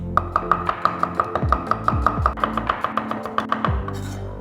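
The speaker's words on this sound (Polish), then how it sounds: "Zaczynamy od posiekania czosku." Garlic is chopped with a knife on a cutting board: a quick, even run of about sixteen close, crisp knocks, with a brief pause partway through.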